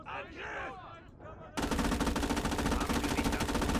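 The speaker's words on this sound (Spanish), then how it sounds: "hay un Stuart que le estaba disparando, creo." Sustained machine-gun fire from a Stuart tank in the WWII video game Gates of Hell, set in North Africa 1943, erupts loud and continuous after someone speaks briefly at the start.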